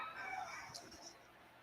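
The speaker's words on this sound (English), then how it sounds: "I still hear that rooster noise." A rooster crows faintly in the background of an online panel call, a short strained call heard through a noisy, hissy connection.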